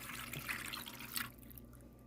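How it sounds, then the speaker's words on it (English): Water is poured into a pan of southern-style pigs' feet cooking on the stove, a faint, soft splashing trickle that runs for just over a second and then stops. "We're going to go ahead and add some water."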